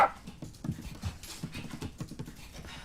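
A pet dog in a house in a Hindi film scene pants and whimpers close by, with a few soft footfall-like taps and no speech.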